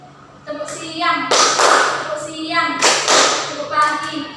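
Children clap hands in a rhythmic classroom clapping game, a few sharp grouped claps rising out of a child's sung chant, with a teacher's voice nearby.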